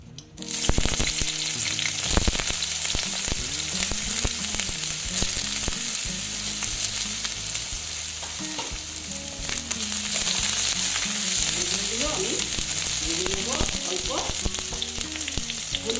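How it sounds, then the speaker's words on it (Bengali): Eggplant slices frying in oil in a pan, with loud, steady, close sizzling throughout and occasional stirring clatter. "দিয়ে বেগুনগুলোকে আমি ভেজে নিচ্ছি দেখো বন্ধুরা"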